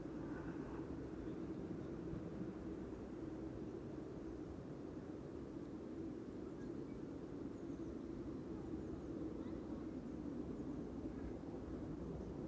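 A wide-body jet rolls along the Polderbaan runway at Schiphol on a morning of heavy arrivals, a steady broadband engine roar that holds at an even, moderate level throughout, with no voices over it.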